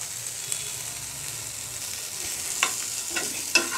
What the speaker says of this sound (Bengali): পেঁয়াজটা আমি চিকেনের সাথে ভাবে একটু হালকা একটু ফ্রাই করে নেই